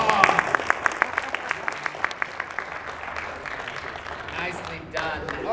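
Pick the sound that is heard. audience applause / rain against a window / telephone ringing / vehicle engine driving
audience applause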